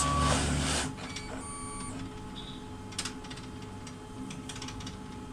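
An HP LaserJet 3027 printer powers up after a toner cartridge swap, opening with a loud mechanical whir that settles into steady internal motor hum, short whines, and scattered ticks and clicks.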